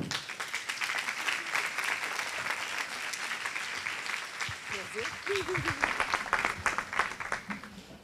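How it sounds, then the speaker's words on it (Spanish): An audience at an educational congress breaks into sustained applause, a dense, continuous wash of many hands clapping, while a voice speaks briefly over it near the end. "La recibimos con un aplauso"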